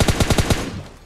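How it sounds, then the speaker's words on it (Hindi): A rapid automatic burst of about six shots from PUBG Mobile Lite, loud and close, then a short fading tail. "फायर कंटिन्यू रखो, मस्त डैमेज में देते रहो"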